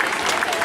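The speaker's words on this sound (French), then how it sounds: "Merci de vos applaudissements pour ces pilotes." Audience applause at a European BMX championship race for 7 to 11-year-old riders, a dense steady patter of many hands clapping, fairly loud and continuous through a brief moment with no talk.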